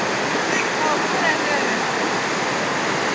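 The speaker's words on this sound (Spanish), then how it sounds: "El río en un poco de tiempo se mermó de agua, ahora sí ya está bastante pequeño" A small river running low, with a dense, steady rush of flowing water close by that fills the short stretch without pause.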